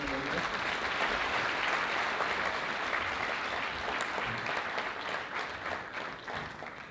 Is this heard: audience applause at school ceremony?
yes